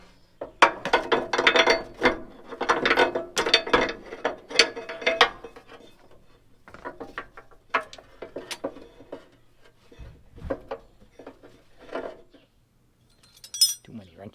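Ratchet wrench clicking on a hay baler, bursts of fast metallic ratcheting with clinks of tools between them, close and fairly loud, with someone speaking at times.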